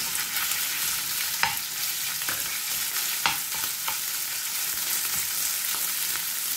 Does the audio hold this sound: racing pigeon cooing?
no